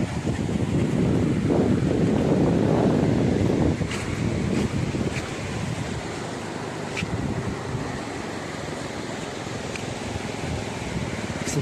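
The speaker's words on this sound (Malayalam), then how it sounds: "പോകുന്ന വഴിക്കുള്ള പുഴയാണ് കേട്ടോ." A river flows beside a forest trekking route to a log house at Periyakompu in Chinnar, a steady broad rush that is louder for the first few seconds, then settles, with wind buffeting the microphone throughout.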